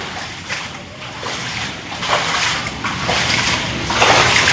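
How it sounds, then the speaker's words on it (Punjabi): Dirty sewage floodwater after heavy rain pours and swirls into a house in Qadri Mohalla, Gurdaspur, a loud, continuous rushing wash with splashy surges building toward the end, no speech. "ਇਹ ਪਾਣੀ ਆ ਜੀ ਆ ਜਿਹੜਾ ਆਂਦਿਆ ਗੰਦਾ ਪਾਣੀ ਨਾਲਿਆਂ ਦਾ ਸੀਵਰੇਜ ਦਾ ਪਾਣੀ ਆ"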